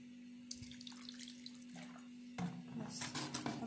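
Tap water runs into a tray of sliced potatoes with chicken, a soft steady pour that swells louder and splashier partway through, with a faint hum underneath.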